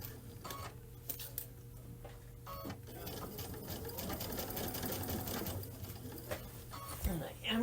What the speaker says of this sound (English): I'll do a little back stitch here.